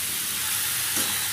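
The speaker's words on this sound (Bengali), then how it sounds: "ফুলকপি আলু সমস্ত কিছু দিয়ে মশলাটা কষিয়ে নিচ্ছি এখন।" Spices sauté with cauliflower and potato in a hot pan, giving a steady close sizzling hiss that runs throughout, with one small stir-like bump near the end and no talk.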